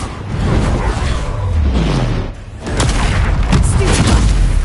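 Booming blasts of the Bombarda explosion spell in a Harry Potter game, loud bursts with whooshing tails and a brief lull between them, with a voice shouting over the action.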